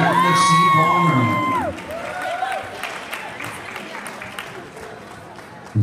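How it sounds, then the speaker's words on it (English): Audience at a Hollywood dancesport ballroom competition applauds and cheers loudly, with whoops rising over steady clapping that then tapers to a softer, thinner patter. "let's have a great round of applause for all of our competitors"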